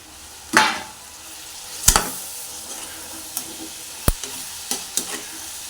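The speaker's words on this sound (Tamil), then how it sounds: "அரிஞ்சு வச்சுருக்க தக்காளி சேர்த்துறேன்" Chopped tomatoes and onions sauté in a pan with a soft continuous sizzle, punctuated by several sharp spatula scrapes and clinks against the metal, close and without talk.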